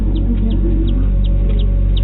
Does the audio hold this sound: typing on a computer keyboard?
no